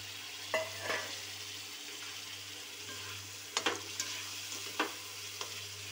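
Peas are stirred into a hot pan for matar paneer: a low, steady sizzle runs underneath while a spoon scrapes and clacks against the pan in several separate bursts, faint and close.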